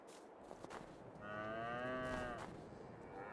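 A cow in the video game Farming Simulator 22 lets out a single long, clear moo, close and loud over a quiet farmyard background.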